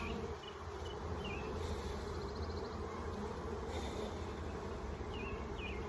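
A thick, constant hum of honeybees crowds a hive frame loaded with food and pollen during a spring split, the buzzing close and unbroken for the whole stretch with no voices.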